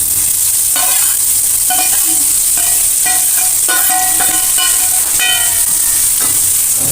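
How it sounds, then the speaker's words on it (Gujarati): Chopped cabbage frying in a pan with mustard seeds, cumin and turmeric for Gujarati cabbage sambharo, a steady loud sizzle broken by repeated scraping stirs, with no talking. "કટિંગ કરેલું કોબી ઉમેરી દેવાનું"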